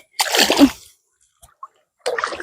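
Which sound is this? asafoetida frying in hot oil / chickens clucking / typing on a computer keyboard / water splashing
water splashing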